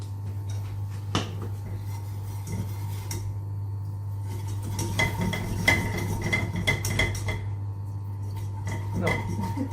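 Milk is worked into a sauce in a pan with a whisk, an irregular series of close metallic taps and scrapes against the pan over a steady low hum.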